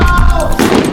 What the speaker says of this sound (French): Des feux d'artifice éclatent, tirés directement depuis un bateau juste devant la villa.